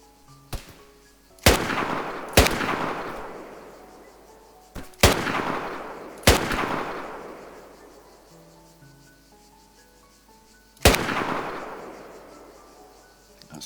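Enemy gunfire in a multiplayer military shooter game: about six sharp, loud shots in irregular singles and pairs, each with a long echoing tail and quiet gaps between.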